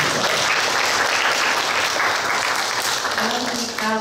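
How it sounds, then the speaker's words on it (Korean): An audience at a workshop panel discussion claps steadily for a panelist, a continuous round of applause that stays full and close before tapering near the end. "큰 박수로"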